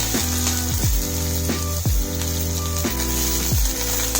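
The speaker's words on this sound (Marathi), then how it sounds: "कांदा थोडा लाल होईपर्यंत भाजायचा" Onion, garlic and green chili fry in a pan with a steady sizzle. Repeated scraping strokes with a falling, tonal squeal come about every half second to second.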